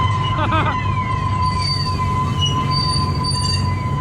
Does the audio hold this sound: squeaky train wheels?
yes